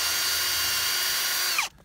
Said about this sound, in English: you drill right in,